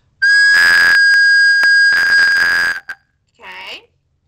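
A recorder blown too hard gives out a loud, piercing squeak, held for about two seconds with breathy breaks. A short, softer, warbling sound follows.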